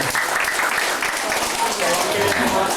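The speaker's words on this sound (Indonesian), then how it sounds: "Tepuk tangan dulu kepala dinasnya." Audience applause at a gathering for a department head, steady crowd clapping with voices talking over it throughout.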